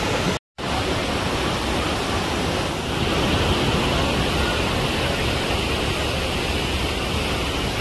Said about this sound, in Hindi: शोर है पानी का कि मेरी आवाज़ भी दब रही है यहाँ पे।